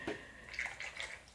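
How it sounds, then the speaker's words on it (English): A watercolor mop brush swishes and sloshes in a rinse water container at a painting station, soft close splashing and dripping with a few gentle bursts. "I'm rinsing in the water over here."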